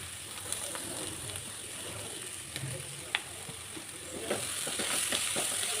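Greens and grated coconut fry in a hot pan on medium flame, with a steady sizzle and occasional scraping stirs close by.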